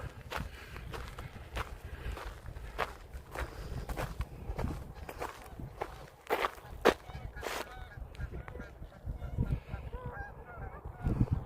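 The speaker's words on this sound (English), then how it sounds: "There's some more birds out there." Geese honking outdoors, several sharp repeated calls scattered over a steady crunch of footsteps on a walk, moderately close with no talking.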